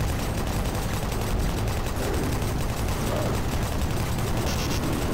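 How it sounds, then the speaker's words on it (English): A chain gun fires in DOOM 3, a steady, dense stream of rapid gunfire that runs loud and unbroken from start to finish. "Chain gun! I forgot about this thing."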